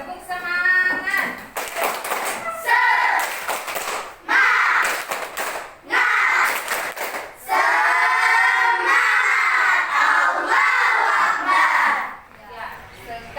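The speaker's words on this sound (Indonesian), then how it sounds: "Tepuk semangat." A classroom group performs the tepuk semangat cheer, bursts of rhythmic clapping in patterned sets with pauses between, loud and close, mixed with lively chanting voices.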